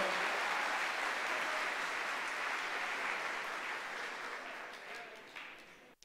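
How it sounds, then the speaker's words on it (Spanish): An audience at a tax seminar breaks into steady applause that starts full and gradually fades over several seconds before cutting off, with faint voices underneath. "Un aplauso fuerte para Lady, por favor."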